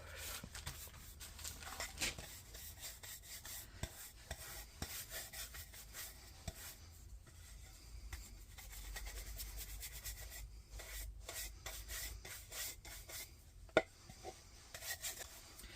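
Wax being rubbed by hand onto painted furniture over a transfer, a faint, close, irregular scuffing and rubbing with occasional soft taps and no talk.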